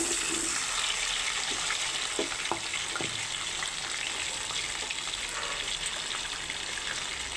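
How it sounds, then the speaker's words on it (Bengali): Potatoes fry in a pan for a village-style rohu fish curry with drumsticks, giving a steady close hiss of hot oil with a few sharp crackles and pops scattered through it. "এখন আমি আলুগুলো ভেজে নিচ্ছি।"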